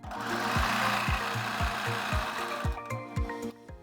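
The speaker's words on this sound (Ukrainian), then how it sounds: "Пришиваю я резинкою завжди двома строчками" A sewing machine stitches elastic onto underwear, running in a fast, steady mechanical chatter at close range, then slowing into separate stitch thumps before it stops.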